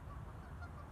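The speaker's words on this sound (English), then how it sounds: "So I think that bird right there is getting closer to me" A goose honks close by, a short run of nasal calls from a bird approaching for food outdoors, fairly faint against quiet background, no talking.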